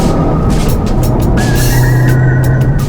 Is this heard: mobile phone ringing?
no